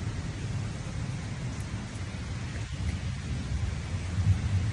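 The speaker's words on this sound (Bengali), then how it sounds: "আজকে বাইরে প্রচণ্ড বৃষ্টি হচ্ছে, মেঘও রাখছে। মেঘের গর্জন শুনতে পাচ্ছেন না জানি না।" Heavy rain pours steadily outside during a thunderstorm while low thunder rumbles beneath the constant hiss of the downpour, with no voices.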